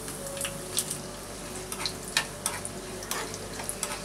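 Urad dal sizzles in a hot tempering of oil with curry leaves, cumin and asafoetida, a steady crackling fry broken by small pops and stirring clicks, close and alone.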